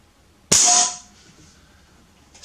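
A single sharp shot from an Artemis PR900W air rifle during a regulator test: an abrupt, loud crack followed by a short hissing decay, then quiet.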